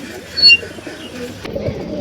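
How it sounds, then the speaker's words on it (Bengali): Malbai pigeons give a brief burst of soft, low cooing, close by and fairly clear against a light background murmur. "দেখো পায়রা দুটো দেখো"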